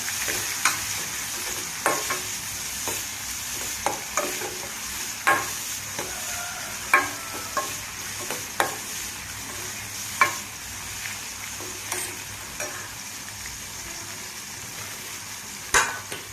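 Dried prawns frying and being stirred in a pan for a ridge gourd and egg curry, a steady sizzle under repeated scraping and clinking strokes of a spoon against the pan, close and alone.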